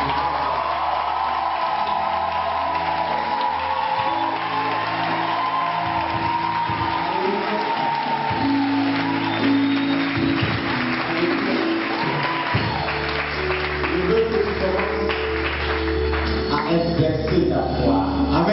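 A church congregation at a February retreat breaks into applause and cheering, a sustained crowd roar with whoops under a droning background tone, mixed with some voices.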